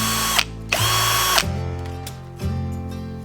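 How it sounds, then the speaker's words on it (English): KIMO T-20 cordless drill driving 3-inch deck screws into 3-inch-thick wood, loud close whine in short bursts that bog down under heavy torque, then a longer grinding run. "there's a lot of torque going to put the 3-inch deck screws, and this is 3 inches thick here."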